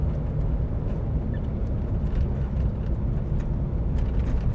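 Steady, loud interior drone of a 4.6L V8 car cruising at 2400 RPM, an even low rumble with road noise and no change in pitch throughout.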